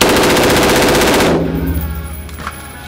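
An AR-15 rifle fires a fast, loud burst of shots to test how magazines cycle, the close, continuous volley stopping abruptly and leaving a fading ring with no voices.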